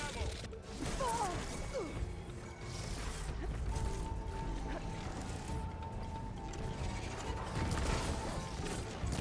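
Robotic machines from Horizon Forbidden West whir, creak and clank in ratcheting mechanical bursts, with a low rumble running steadily underneath for several seconds.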